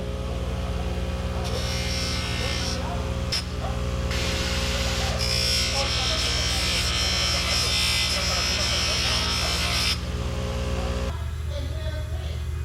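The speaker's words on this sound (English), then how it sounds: "this is my buffing wheel. Let the buffering begin." A bench buffing wheel polishes rusty boat rigging parts from a Hallberg Rassy 54 during a rig service, giving a steady loud motor whine and buzz with brief pauses where the load changes, ending in a lower hum.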